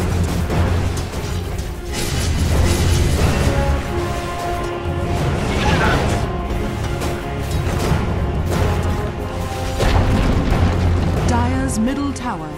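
A defensive tower collapses in the Dota 2 battle arena game, a rumbling, booming crash that stays loud and dense throughout, layered over continuous game music and battle effects.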